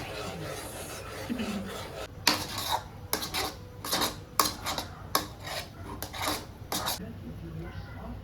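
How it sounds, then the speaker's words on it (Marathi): Semolina stirred in a pan, a spoon rasping and scraping against the metal in a run of short, irregular strokes, close and clear, with quiet background. "थोडा टाकायचा आणि ढवळत राहायचं, जेणेकरून त्याच्या गुठळ्या व्हायला नको"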